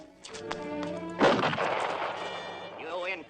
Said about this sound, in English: Pick up your guns and fire! Shoot him!